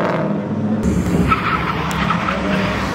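A front-wheel-drive car does a burnout at a Cars & Coffee meet in Morrisville, North Carolina. Its tires screech and skid continuously and loudly for about three seconds over a steady engine roar.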